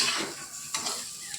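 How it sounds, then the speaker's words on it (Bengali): Brinjal softens over low heat in a pan, stirred gently, giving a soft sizzle with light scraping. The sound is brief and close. "একটু সিমে দিয়ে হালকা হালকা করে নাড়াচ্ছি। জোরে দিলে পুড়ে যাবে"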